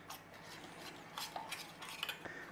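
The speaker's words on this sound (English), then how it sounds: "We just want to be giving that a little mix in to make a paste" Cornstarch and rye flour being mixed into a paste in a bowl, with quiet clinks and light scraping of a utensil against the dish in irregular bursts.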